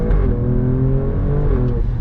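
Engine of a 510 bhp Alfa Romeo Stelvio Quadrifoglio revving, a deep, loud, close rumble with steady low harmonics that swell slightly, no talking over it.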